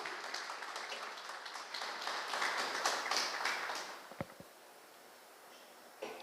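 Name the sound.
congregation applauding the Lord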